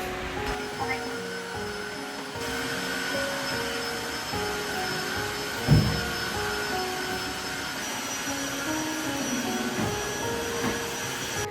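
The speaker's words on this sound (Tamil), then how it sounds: "வெட் வேக்யூம் வச்சு ஃபுல்லாக தொடச்சாச்சு" A wet vacuum cleaner mops a house floor with a loud, steady whining drone that shifts pitch as it moves, and one brief bump partway through, close and continuous with no voices.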